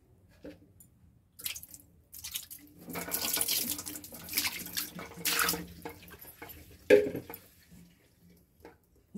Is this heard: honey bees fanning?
no